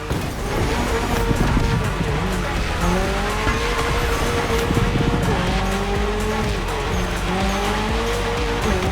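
A Toyota GR86 with a lightweight, naturally aspirated engine races through neon-lit city streets in a racing video game. The engine revs up and down loudly and continuously, and the tires squeal through skids.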